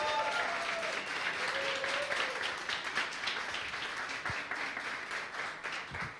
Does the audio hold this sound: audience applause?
yes